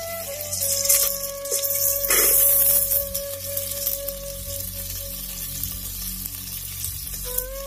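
Fenugreek seeds roast in a pan with a strong, close sizzle that swells and settles, while a faint steady tone hums underneath the crackle throughout.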